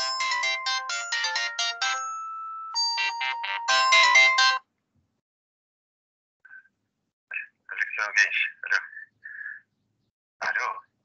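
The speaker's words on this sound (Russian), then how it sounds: "Опять Суворов звонит" A mobile phone rings with an incoming call, playing a bright electronic melody of quick, repeated beeping notes for about four and a half seconds before cutting off, followed by silence and a few brief, scattered chirpy sounds.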